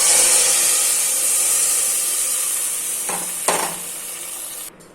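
Asafoetida tempering with chili in hot oil hisses into cooked moong dal with ridge gourd, a loud, steady sizzle that slowly fades, broken by a few brief clinks of the pan near the end.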